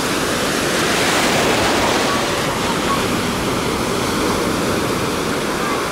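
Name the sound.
sea waves on a beach in Alanya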